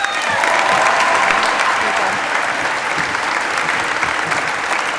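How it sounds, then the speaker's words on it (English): Loud, sustained crowd applause for a student body vice president at a school event, a thick continuous roar of many hands clapping with no break throughout. "Please keep the applause going for your student body vice president"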